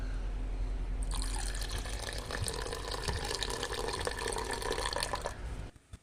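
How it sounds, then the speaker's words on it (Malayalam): Tamarind water pours steadily into a ground mixture for brinjal theeyal curry, a continuous close splashing stream lasting about four seconds before stopping abruptly, with no talking. "ആ മിക്സിലേക്ക് ഈ പുളി വെള്ളം ഒഴിച്ചു കൊടുക്കണം"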